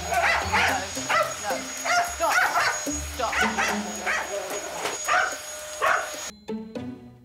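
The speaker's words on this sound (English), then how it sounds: "I've seen dogs going for hoovers before, but that was really bad" A Labradoodle barks and yips repeatedly as it attacks a vacuum cleaner (Hoover) indoors, with loud close rhythmic barking and whimpers over a mechanical drone, and people talking throughout.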